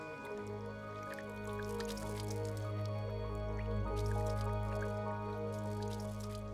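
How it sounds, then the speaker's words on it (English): Water poured onto the leaves of a taro plant, with soft dripping and trickling over a low steady background hum, fairly faint and without talk. "Watch what happens when I pour water on them."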